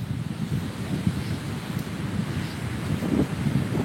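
Ocean waves wash onto a beach under gusty wind noise, a rough low surging rumble that rises and falls irregularly and stays fairly close and continuous.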